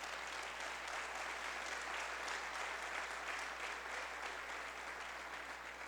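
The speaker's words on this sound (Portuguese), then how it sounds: "Dê uma forte salva de palmas para Jesus." Sustained applause from a church congregation, dense clapping that holds steady for several seconds without speech.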